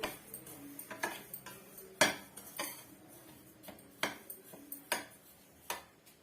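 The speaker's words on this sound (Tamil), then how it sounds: "ஒரு அஞ்சு நிமிஷத்துக்கு இது மாதிரி இடைவிடாம இது மாதிரி கலரி கொடுத்துட்டே இருங்க ரவை வந்து நல்ல ஒரு வாசனை வரணுங்க" A spoon scrapes and clinks steadily against a kadai while semolina (rava) is stirred and roasted, giving irregular metallic taps and knocks, close and fairly quiet, with no voices.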